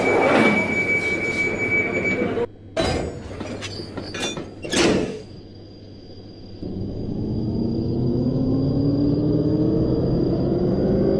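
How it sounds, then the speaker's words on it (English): A simulated London Underground Jubilee Line 1995 Stock train rumbles and squeals along the rails, with clattering bursts and a door thump, then a steady rising hum as it departs the station. "This train is about to depart."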